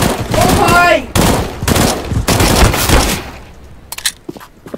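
Burst-fire gunshots in the game CS:GO, loud clustered volleys in several quick bursts with short gaps between them, then fainter scattered shots near the end.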